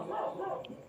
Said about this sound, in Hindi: कुत्ता बहुत बोल रहा है ये।